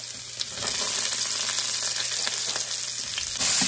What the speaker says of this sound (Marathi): मोहरी टाकतीये, नंतर लसूण, आलं, कांदा